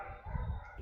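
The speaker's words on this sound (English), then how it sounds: "I keep hearing a dog in the background." A puppy barks and yips somewhere in the background of a home, its short, faint calls sitting low behind room noise and a little speech.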